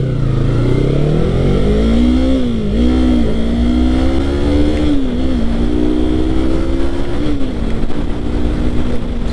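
A Yamaha MT-03 motorcycle pulls away from a traffic light, its engine note climbing through the gears in several rising sweeps with short dips at each shift, loud and close against steady wind rush.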